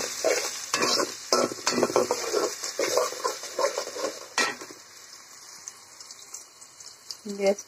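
Chopped onions frying in hot oil in a pot for pulao, with a steady sizzle and repeated scraping strokes of a spoon against the metal that fade toward the end.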